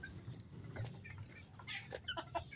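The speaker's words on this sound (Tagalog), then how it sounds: "Ito yung aking mga magagandang manok" Backyard chickens cluck softly at feeding time, a few faint scattered calls over quiet ambient noise.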